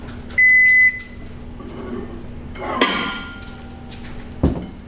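A microwave oven hums steadily with a low drone, a short beep near the start and a couple of clinks of a bowl inside.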